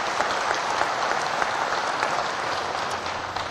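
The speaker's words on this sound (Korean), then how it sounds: "지지하는 사람 박수 해봐요." An indoor audience at a religious address breaks into loud sustained applause, dense clapping filling the room evenly from start to finish.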